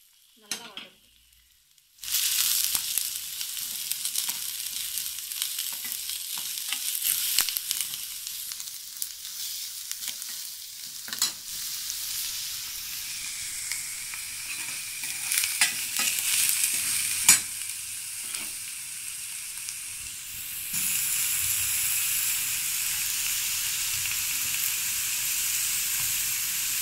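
Onion, green chili, garlic and curry leaves sautéing in a pan for masala dosa filling: a steady bright sizzle begins after a brief silence and runs continuously, with scattered scraping stirs and occasional louder crackles, no talking.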